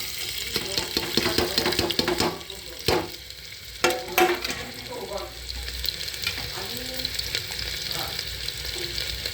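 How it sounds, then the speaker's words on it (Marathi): Onion sizzles in hot oil in a pan for a mutton dish, a steady crackling hiss with scraping stirs and a few sharp clatters; faint speech murmurs in the background. "तेल टाकलंय आता हे तेलामध्ये कांदा टाकलाय."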